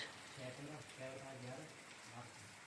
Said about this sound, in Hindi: बारिश बहुत तेज से बरस रही है